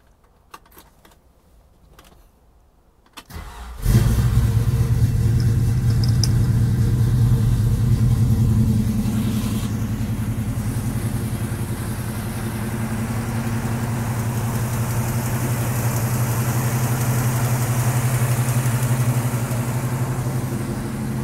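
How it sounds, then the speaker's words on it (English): A 1966 Ford Mustang Fastback HO cranks and fires up after a few seconds of quiet clicking, then settles into a loud, steady, rumbling idle close by that holds for the rest of the clip. "let's go ahead and crank her up, take it for a drive"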